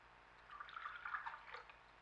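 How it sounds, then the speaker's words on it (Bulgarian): Warm water poured into two small coffee cups in a home kitchen, a soft steady trickle that swells in the middle and tapers off, close and fairly quiet over low background hum. "Сега ще добавя 2 кафяни чашки топла вода."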